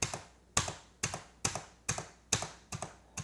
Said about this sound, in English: I was clicking the space bar each time.